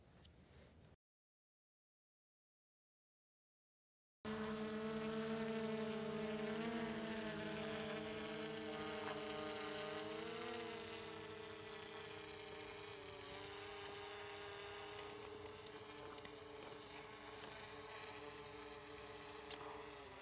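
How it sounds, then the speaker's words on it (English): A DJI Mavic drone carrying a GoPro Hero 7 hovers and flies nearby, its propellers giving a steady high-pitched buzzing whine with shifting tones, after a brief gap of silence at the start. "I'm going to bring this aircraft down and land with the GoPro Hero 7 on it"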